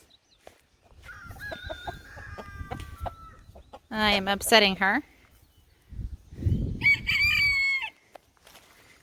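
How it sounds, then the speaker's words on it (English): A hen kept in a box clucks and squawks in loud, close bursts between stretches of quiet, with a person speaking briefly nearby. "Say hello to our hen in the box."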